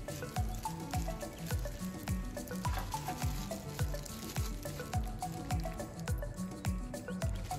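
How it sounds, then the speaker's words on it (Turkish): Water-soaked börek pastry being dipped in a bowl of water and squeezed, with a close, rapid run of drips and wet squishing at an even rhythm throughout. "Börekleri altından tutarak bu şekilde suya ıslatıyorum."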